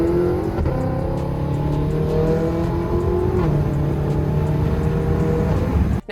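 BMW M6 with the S63TU twin-turbo V8 being driven, a steady loud engine drone with rising and shifting pitch as it pulls through the gears, heard from close by with no talking.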